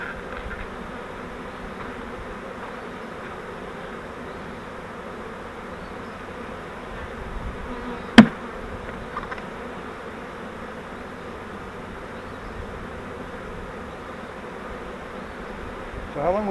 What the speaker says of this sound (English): Not too many bees in there.